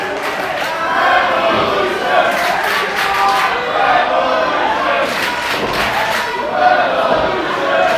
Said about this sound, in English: The crowd's behind him. Crowd chanting Revolution.